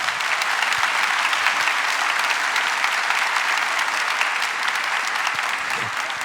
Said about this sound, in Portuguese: Merece ser aplaudida essa palavra.